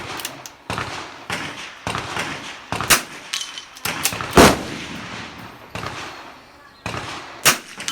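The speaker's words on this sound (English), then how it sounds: "And of course, this is Caleb making short work of probably the most difficult section of the course of fire that you'll find." Rimfire rifle shots fired during a shooting course of fire at a busy outdoor range, a string of sharp cracks spaced about a second apart, some loud and close, others fainter in the background, with someone talking throughout.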